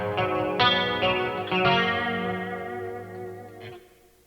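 Electric guitar chords played through a BOSS Katana MK2 amp with a shimmering chorus and subtle doubling modulated delay, notes ringing out and decaying with a smeared, doubled tone.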